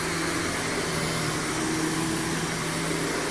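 A canister vacuum runs during carpet cleaning with a steady, loud motor drone and airflow roar, close by and unchanging throughout, with no talking.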